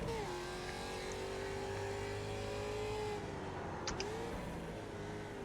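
A production race car in iRacing at Bathurst holds a steady engine drone, then lifts and drops a gear near the four-second mark with a brief dip and quick re-rise in pitch, loud and close with no talking.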